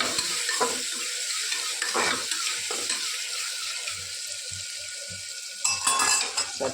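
Chili masala, tomatoes and green onions stirred in a hot pan, close sizzling with spoon scrapes and small knocks against the pan, continuous with a louder burst near the end, no voices.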